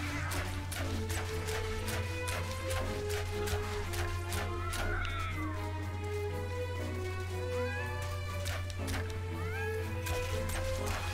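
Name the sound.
cats meowing in the video game Medievil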